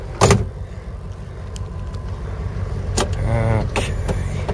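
A 1964 Lincoln Continental with its original 430 engine, a restored survivor car, idles and rolls off, a low steady engine rumble broken by a few sharp clunks and a brief whirring motor sound.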